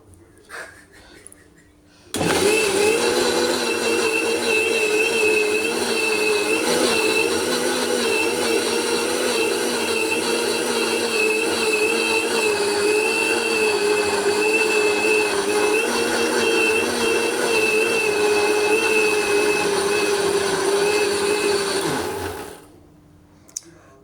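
An electric grinder works urad dal into fluffy idli batter with a loud, steady motor whine and droning hum. It starts abruptly, runs unchanged for about twenty seconds, then cuts off, with no talking over it.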